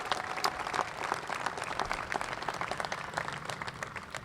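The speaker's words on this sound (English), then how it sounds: "And give yourselves a round of applause." Applause from the crowd at a press conference, a busy patter of many hands clapping at an even level throughout, moderately loud in the room.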